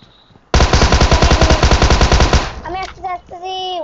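Video game gunfire, a loud close burst of rapid automatic shots lasting about two seconds, followed by short electronic tones and game effects.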